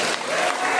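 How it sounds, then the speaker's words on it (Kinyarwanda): A worship concert audience applauds in a short, dense burst of crowd clapping that fills the space evenly for under a second. "twongere tubakomera amashyi"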